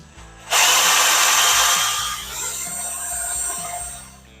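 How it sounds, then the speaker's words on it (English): A power drill with a 1/8-inch bit whines loudly as it bores holes in a plastic kayak anchor plate, a sharp grinding burst that eases into a steady rough hum over a few seconds. "we use our 1/8 drill bit here, and we'll drill out these holes"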